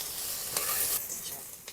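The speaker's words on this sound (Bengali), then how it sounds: "পেঁয়াজ শুকনো লঙ্কা রসুন একসঙ্গে ভালো করে ভেজে নেবো।" Onion, dried red chilli and garlic fry together in oil, a steady sizzle with a faint stirring scrape, a brief brighter hiss midway and a small clink near the end.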